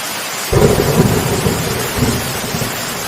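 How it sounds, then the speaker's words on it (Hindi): A sudden rumble of thunder rolls in over steady heavy rain, the low boom swelling then fading as the downpour hisses on. "मौसम बदल जाता है और बारिश शुरू हो जाती है"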